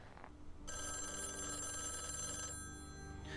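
A telephone bell rings on screen in a Loki episode, one long sustained metallic trill that starts suddenly after a moment of quiet, rings for about two seconds and then fades, with no talking.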